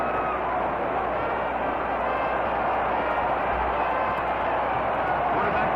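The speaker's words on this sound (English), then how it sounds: "The crowd is going crazy." A football crowd at the 1958 Grey Cup roaring without letup, a dense, loud wall of cheering and shouting that holds steady throughout.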